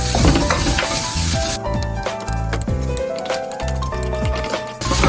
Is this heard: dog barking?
no